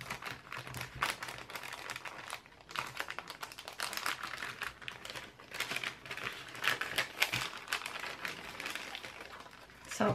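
A mail package sealed with washi tape being opened, with close, quiet crinkling, peeling and paper rustling in irregular bursts over about ten seconds.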